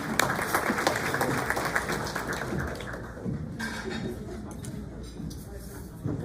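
Audience applause at a business graduation event as a franchise group is introduced, a steady wash of clapping filling the room under some crowd noise, easing slightly toward the end.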